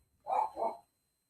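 A dog gives two quick barks in a row, the second a touch softer, followed by silence.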